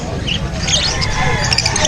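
Pet birds squawk at a busy pet market, with shrill calls rising through steady crowd chatter and someone talking close by.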